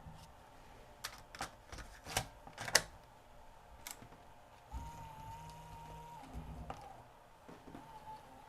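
A Sony DCR-TRV310 Digital8 camcorder with a playback fault ejects a tape, making a quiet series of sharp mechanical clicks and clacks followed by a low motor whir lasting a couple of seconds.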